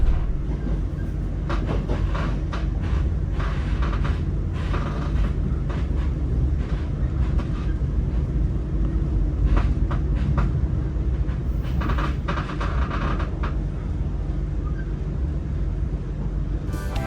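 Brawijaya passenger train rolling along rails, a steady loud rumble with intermittent clicking bursts from the wheels, heard from inside the carriage with no talk.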